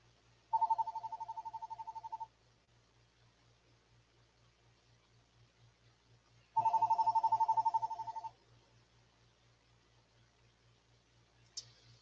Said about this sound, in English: I don't know who's calling, but I can't answer the phone